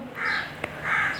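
A crow caws loudly and close by, two harsh calls separated by a short pause, with no other sounds around them.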